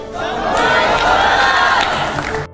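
A loud crowd cheering and clapping, sustained and close, ending abruptly.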